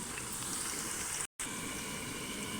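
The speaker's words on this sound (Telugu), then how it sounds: "ఇప్పుడు స్టవ్ సిమ్లో పెట్టుకొని మంచిగా ఫ్రై చేసుకుందాం" Sliced bitter gourd frying in a pan on a stove over low flame, giving a steady, even sizzle that is briefly cut by a moment of silence.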